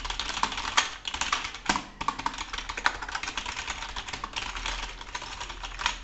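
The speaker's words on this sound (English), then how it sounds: "So the feelings of this membrane keyboard, like you can say that it is actually the semi-mechanical keyboard. If you see here the keyboard typing," Steady, rapid typing on a Flipkart SmartBuy PK-72 budget semi-mechanical membrane gaming keyboard, close up, with dense soft clacks and a few louder key strikes.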